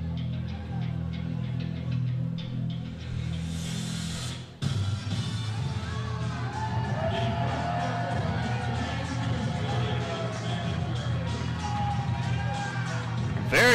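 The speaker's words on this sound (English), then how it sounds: "Very vocal reaction from this raucous crowd." A raucous crowd at a 3X Wrestling event reacts loudly to the wrestlers' entrance, a continuous roar of shouting and booing that rises after a sudden swell, with an announcer talking over it.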